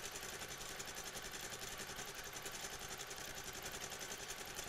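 A sewing machine stitches a quilt corner, running as a fast, even mechanical hum with rapid rhythmic ticking, steady and unbroken throughout.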